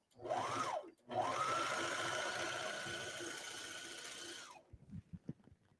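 A serger cutting and stitching knit fabric for a tank top runs in two steady motor bursts, the second lasting several seconds, then winds down. A few light clicks from handling follow.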